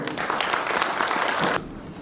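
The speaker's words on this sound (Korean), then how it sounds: "여러분 함께 한 마음으로 박수 한번 쳐주시죠." Dense applause from a seated audience at a Korean international academic conference, steady and fairly loud for about a second and a half, then cutting off abruptly into quiet room tone.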